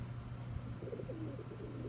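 Old pet racing pigeons coo softly in a low, rolling, repeated murmur, faint and somewhat distant over a steady low hum, with no talking.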